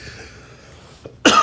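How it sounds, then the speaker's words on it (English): A single short, sharp cough from a man bursts out at the very end after a quiet, faint murmur. "Got this stupid cough."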